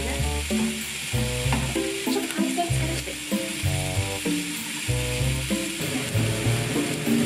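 Onion frying in sesame oil in a pan: a steady close sizzle with repeated stirring scrapes of a utensil against the pan, continuous and without talk.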